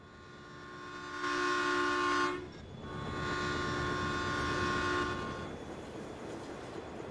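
A train passing in the farming video game Farming Simulator 17, with a steady rumbling roll and a drawn-out horn blast that swells, dips briefly, then sounds again before fading. Mid-distance, no talking.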